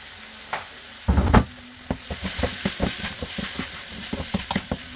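Mushrooms frying in a pan give a soft sizzle broken by a burst of louder hissing early on, followed by a run of quick scraping and tapping strokes as they are stirred.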